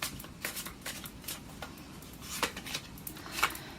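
Tarot cards are shuffled and drawn in a quiet room, with soft, steady riffling and brushing of cards and a few sharper slaps and flicks, close and faint, with no talk.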